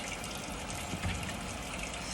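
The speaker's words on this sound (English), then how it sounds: "letting the water flow down" Tap water runs steadily during a hand rinse for PPE hand washing, a soft continuous splashing flow heard close and fairly quiet, with no talking.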